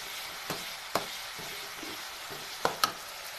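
Potatoes and capsicum hit hot oil in a pan, giving a steady soft sizzle with a few sharp clicks and stirring scrapes, close and moderately quiet.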